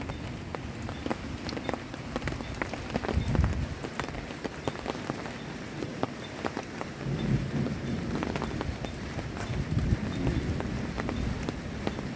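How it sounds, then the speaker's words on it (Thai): Heavy rain pours steadily, a dense hiss with scattered sharp drip taps and a low rumbling undertone, continuous and close throughout with no talking. "ฝนตกแรงมากนะคะ"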